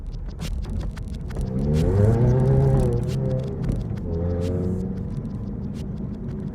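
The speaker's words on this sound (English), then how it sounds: "This is me driving it now." A 2000 Toyota MR2 Spyder drives along, its engine droning steadily with a rising, falling pitch as it accelerates and eases off, heard close and continuous with no talk.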